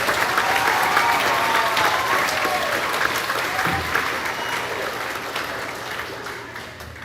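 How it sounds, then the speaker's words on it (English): A crowd at a school awards ceremony claps steadily, loudest at the start and slowly thinning out, with a few voices murmuring underneath. "Now you can give them a round of applause."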